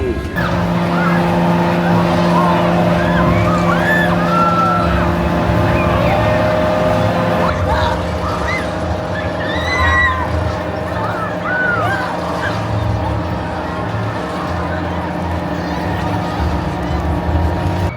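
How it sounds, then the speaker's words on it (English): The Zodiac amusement ride at Thorpe Park runs loud and steady, a continuous mechanical roar and whoosh with squealing tones and riders' shrieks throughout, up close. "awesome ride there on Zodiac"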